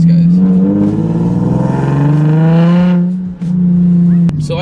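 A Nissan 370Z's exhaust drones loud and close, holding a steady rev before cutting out and then briefly picking up again.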